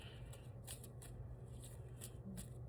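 Tarot cards being shuffled by hand, a steady run of soft riffling and papery flicks over a low background hum, with no talking.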